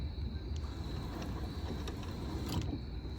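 Steering wheel being turned, moving a Silvia steering rack swapped into a turbo S2000 drift car, a quiet continuous mechanical grinding with faint clicks and creaks, heard close with no talking.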